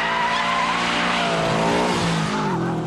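An all-wheel-drive Subaru Impreza prototype fitted with the Prodrive ATD system drifts on a test surface, its tires squealing loudly and continuously over a droning engine whose pitch shifts as the slide goes on.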